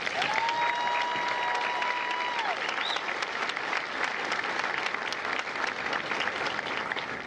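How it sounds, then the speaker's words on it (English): Crowd at a Marine Corps recruit graduation ceremony for Echo Company applauding the families, sustained clapping from a large audience heard at moderate distance, with a faint tonal whistle or feedback line briefly over it early on. "Ladies and gentlemen, a round of applause for the families of Echo Company"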